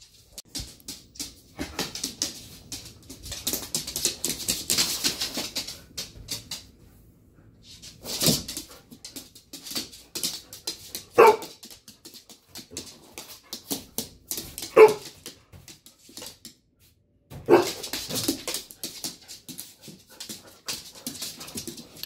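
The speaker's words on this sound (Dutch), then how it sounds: "Wat is er dan met jouw geblaf?" Several small dogs bark, yip and whimper in bursts while playing indoors with a ball, with short pauses between the outbursts and no talk.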